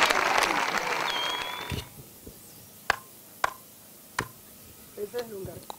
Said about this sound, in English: I can hear a person clapping hands.